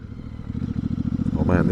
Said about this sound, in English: Oh man, this bike sounds good.